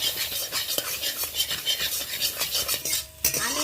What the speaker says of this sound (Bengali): আমি একেবারে গুঁড়ো গুঁড়ো করে ঝুরি ভাজার মতো ছোট ছোট করে ডিমটাকে ভেজে নেব।